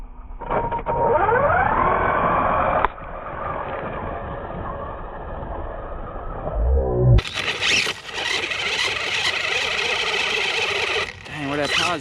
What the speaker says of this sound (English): Let's do a little launch up close, full throttle launch.